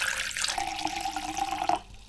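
Water running from a tap into the Pakt coffee kit kettle, a steady filling hiss and gurgle at close range that cuts off near the end, with no talking.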